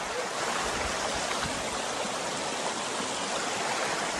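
A river stream rushes steadily and close by, a dense continuous wash of flowing water with no break and no voices over it.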